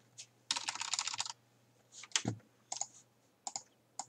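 Login credentials being typed on a computer keyboard while setting up a Foscam 1080P night vision IP camera: a fast dense burst of key clicks, then scattered short clusters of taps with pauses between, close and clear.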